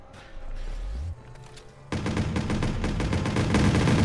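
Video game gunfire from Watch Dogs: after a low rumbling lead-in, dense rapid automatic shots erupt and continue loudly to the end, with a steady rattling burst pattern.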